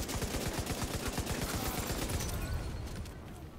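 Dense, rapid gunfire from a firefight in The Division 2, shooting out an enemy's backpack: loud, close bursts of overlapping shots that run steadily throughout and ease slightly toward the end.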